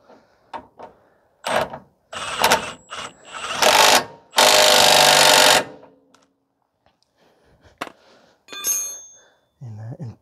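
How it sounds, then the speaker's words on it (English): A rear shock bolt on a 2016 Ford F-150 with the 3.5 V6 is tightened by a ratchet in quick bursts of clicking, with a long loud whirring run of a power tool and short pauses between, up close. "Tighten down the bolt."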